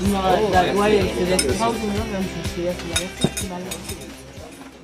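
Dishes clink and clatter as they are washed, with occasional sharp knocks of plates and cutlery under people talking.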